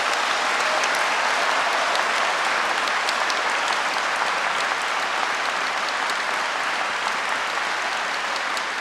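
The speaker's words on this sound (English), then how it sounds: "please, give yourself the loudest applause for your strength, your journey, and the recognition that you deserve" A large audience claps continuously at an Edinburgh Napier University graduation ceremony in a hall, an even, sustained roar of many hands at moderate level with no speech over it.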